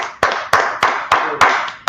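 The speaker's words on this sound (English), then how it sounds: "Let's clap it up for the Lord." A church audience claps for the Lord in a steady, even beat, six sharp close claps roughly a third of a second apart with no talk over them.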